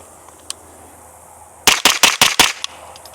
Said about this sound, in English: So let's see what it sounds like in the PTR.